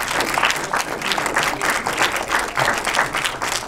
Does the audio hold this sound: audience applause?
yes